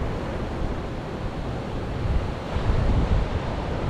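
Surf washing up against a seawall along a Daytona Beach hotel strip after Hurricane Ian, a steady broadband roar of water and wind that swells slightly louder toward the end, with no voices.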